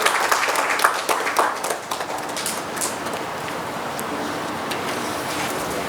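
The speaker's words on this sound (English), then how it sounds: "With a big round of applause," Audience applause at the FPME annual meet, a burst of clapping at the start that quickly thins and gives way to a steady hiss of room noise.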